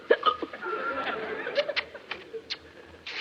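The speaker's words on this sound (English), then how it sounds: "If only you'll stop those awful hiccups." Repeated hiccups from a person in an old comedy, sharp irregular hiccups and snickering laughter mixed with faint voices, fairly quiet and spread across the moment.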